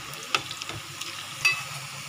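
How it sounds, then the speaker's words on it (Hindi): Pieces of soya chaap frying in hot oil on a medium flame, a soft steady crackle with a few sharper pops, close but fairly quiet, with no talking. "ये मैं इसमें डाल दूँगी पीस कटे हुए। हम पहले फ्राई कर लेंगे इसको। ये मीडियम आंच पे फ्राई करना है।"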